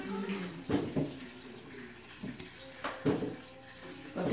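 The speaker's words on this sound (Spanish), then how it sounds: "aquí le vamos a echar la lechita" Milk is poured into a pudding mixture in a home kitchen, giving a steady liquid pour with a few splashy surges and soft knocks against the bowl.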